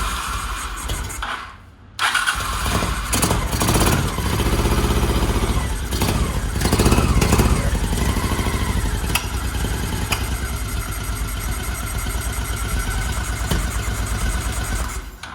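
A Honda African Twin motorcycle engine, run briefly without fuel hooked up, catches after a short crank and then settles into a loud, steady, close running rumble.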